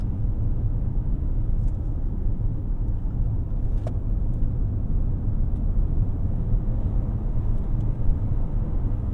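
A 2024 Lexus TX 350 downshifts to pass, heard from inside the cabin as a steady, loud, low engine and road rumble with no talking.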